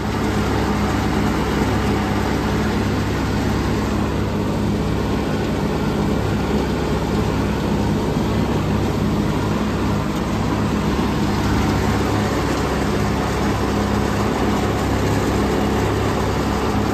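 A vintage Cub Cadet 982 garden tractor engine runs in a continuous low rumble, steady and close throughout, with no speech.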